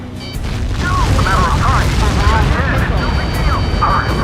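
Missile impact in Ace Combat 7, a loud sustained boom and rumble under the roar of jet combat, with radio voices and warning tones in the mix.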